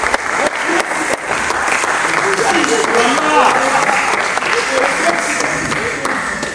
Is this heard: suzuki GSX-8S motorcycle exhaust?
no